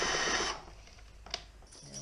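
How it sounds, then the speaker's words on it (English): A power drill briefly whirs as screws go in to fix a camera mount onto a fishing kayak. A loud burst of drilling is followed by quieter clicks and handling noise, close by. "drill it in"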